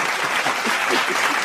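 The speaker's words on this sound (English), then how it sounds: "Give her that clap." A crowd claps in sustained, dense applause that stays loud and even throughout, with no gaps or voices standing out.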